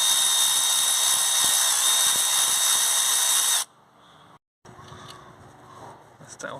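A power tool whirs loud and steady for several seconds, taking bolts off the EGR cooler vacuum housing on a Vauxhall Opel Insignia 2.0 CDTi with a coolant leak, then cuts out, followed by faint clinks and handling.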